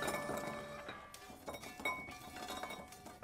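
Crisp rye bread croutons tipped into a bowl, a quick burst of light clinking and rattling pieces up close, followed by scattered smaller taps as they settle.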